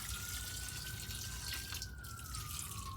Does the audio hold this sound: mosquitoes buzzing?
no